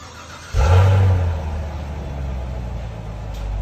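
A 2021 Chevy Camaro LT1 with a 6.2L V8 on its stock exhaust revs up sharply, a loud deep engine roar that peaks, then settles back into a rumbling idle close by.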